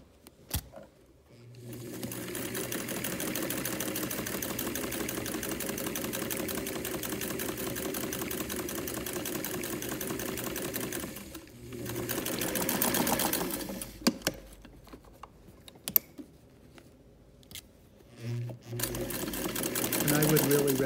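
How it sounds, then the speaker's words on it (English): A sewing machine stitching a silk and tarlatan skirt runs in long, steady mechanical bursts, close and clear, with pauses and small handling knocks between runs and a voice talking over parts of it. "I recommend this part to be done by machine"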